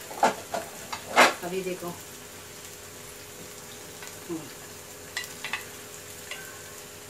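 Ginger, garlic and tomato frying in a pan for tomato chutney, a soft sizzle with a few sharp stirring clatters early on, fading to a quieter hiss, while a voice speaks briefly.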